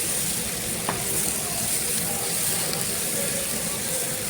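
Onions and green chilies with beet salt sizzle and fry in a pan while being stirred, a loud, continuous hiss close up with faint scraping, heard alone.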